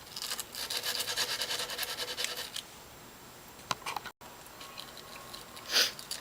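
A knife blade is drawn across a 150 grit abrasive, close rasping strokes that fill the first half and then give way to a quieter stretch with a few sharp scrapes and a short gap.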